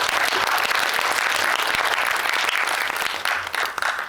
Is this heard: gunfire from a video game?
no